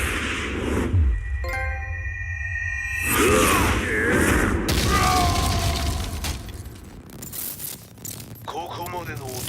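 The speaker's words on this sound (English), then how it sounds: "Explosion confirmed at the Mishima dojo." An explosion at the Mishima dojo in the Tekken 7 video game, with loud crashing and shattering bursts, ringing metallic tones and a dense rumble, while voices speak over it.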